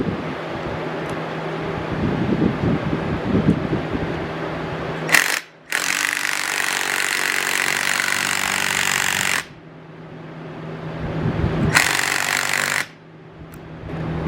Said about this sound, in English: I'm going to attach this to my little Milwaukee 12-volt impact driver to make quick work of this guy